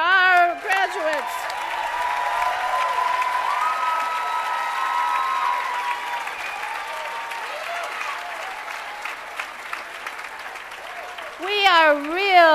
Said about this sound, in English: I hope you heard the thunderous applause